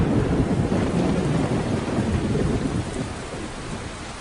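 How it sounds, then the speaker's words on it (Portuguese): Heavy tropical rain arriving at full force pours down in a dense, loud hiss while deep thunder rumbles underneath, the downpour easing slightly toward the end, with no voices. "as chuvas chegam com força total."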